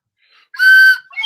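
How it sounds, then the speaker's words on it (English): A slide whistle blows a bright, loud tone that rises and holds briefly, then cuts off, followed by another short burst at the end. "You got a slide whistle for us?"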